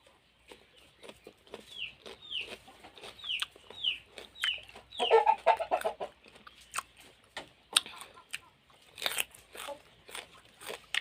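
A hen clucks outdoors at a rice-field hut, giving a run of short, evenly spaced calls followed by scattered pecking and crunching sounds nearby, fairly faint, with no speech.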